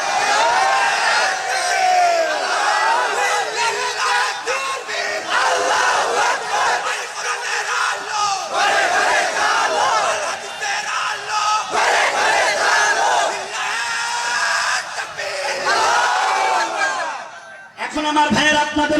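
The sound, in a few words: crowd shouting takbir (Allahu Akbar) loudly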